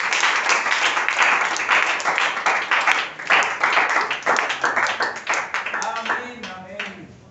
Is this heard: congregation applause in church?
yes